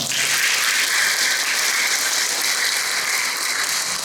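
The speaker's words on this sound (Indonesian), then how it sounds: "Tepuk tangan untuk kita semua." Steady, full applause from an audience at a government gathering in NTT, Indonesia, a dense unbroken wash of many hands clapping for about four seconds.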